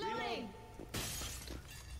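A glass window smashes in the video game Left 4 Dead 2, one sharp, loud crash with scattering shards that follows a voice talking just before.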